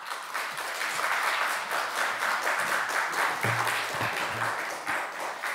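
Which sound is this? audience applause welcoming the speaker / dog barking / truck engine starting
audience applause welcoming the speaker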